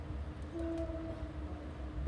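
A ferry arriving at Lymington ferry terminal sounds a faint, distant whistle, a short steady tone of about a second over low rumbling ambient noise.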